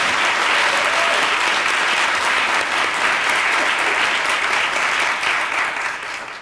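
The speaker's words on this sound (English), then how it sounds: "Let's have another big round of applause." Conference audience at a women's arts accessibility event giving a big round of applause, dense steady clapping from a large crowd, loud and continuous before tapering slightly at the end.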